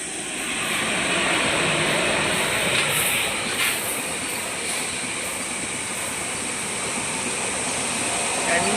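A goods train rolls through a railway station on a Kerala to Mumbai journey, a steady loud rumble of wagons with faint wheel squeal, sustained for the whole stretch.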